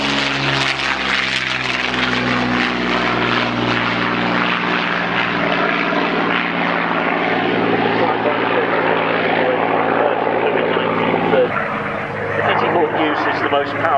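Loud Allison V12 propeller aircraft engine roaring overhead in a sustained flyby at an air pageant, pitch gradually dropping as it passes, with a voice speaking underneath.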